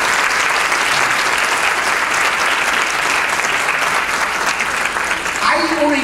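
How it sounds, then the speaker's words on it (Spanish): A conference audience gives a panel discussion loud, sustained applause, dense clapping filling the room without pause, with a voice briefly starting to speak at the very end. "Démosle un aplauso y las gracias a este panel de grupo."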